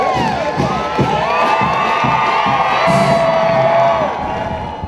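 A large crowd at a college football game in Huntington roars and cheers continuously, loud and sustained, with scattered whoops and shouts rising above the mass of voices.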